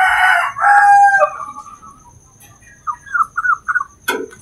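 A young rooster crows up close and loud, one strained, raspy call broken into short pieces, followed by a few softer clucks and chirps.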